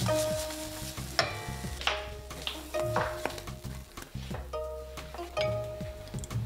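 Korean crepe batter for gu jeol paan frying in a non-stick pan: a steady close sizzle broken by scraping stirs and light utensil taps, with soft tonal music playing underneath.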